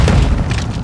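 A breaching charge detonates in Call of Duty: Modern Warfare II, a single loud, close boom with a heavy low rumble that stays dense and sustained across the whole moment.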